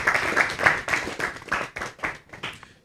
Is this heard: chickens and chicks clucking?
no